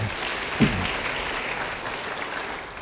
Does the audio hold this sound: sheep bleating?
no